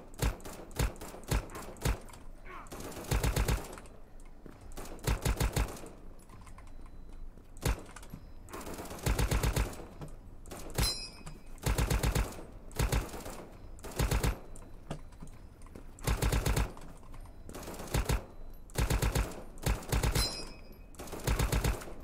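Gunfire in the browser shooter Krunker.io, rapid bursts of sharp, loud shots in clusters separated by brief pauses, close and dry, with a few quicker single pops between volleys.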